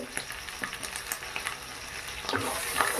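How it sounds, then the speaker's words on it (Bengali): A masala of turmeric, Kashmiri chilli powder and garam masala sizzles steadily in a pan while being stirred, with scraping stir strokes and a slightly louder frying hiss toward the end. "বেশ কিছুক্ষণ নেড়ে চেড়ে মশলাটাকে কষিয়ে নেব"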